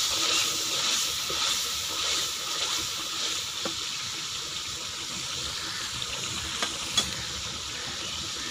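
Spice mixture with red chili and salt stirred and sizzling in a hot pan for a potato and fenugreek curry, a steady bright frying hiss with a few soft scrapes of the spoon, close and continuous.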